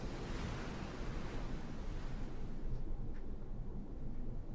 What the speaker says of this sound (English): the big waves were pounding hard against him to drown him